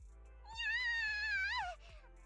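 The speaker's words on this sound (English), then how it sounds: "And there's the kitty." One clear, drawn-out meow with a rising and falling pitch from a cat in the video game Zenless Zone Zero, heard alone over quiet background sound.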